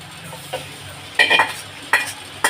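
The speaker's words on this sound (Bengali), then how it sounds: "মশলাটাকে আমি একটু কষবো যতক্ষণ না তেল ছেড়ে দিচ্ছে" Ground spice paste sizzles in hot oil while being stirred for mutton kosha, with quiet frying hiss broken by sharp scrapes and clinks of a spatula against the pan in irregular bursts.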